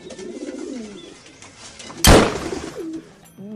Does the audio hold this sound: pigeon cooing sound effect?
yes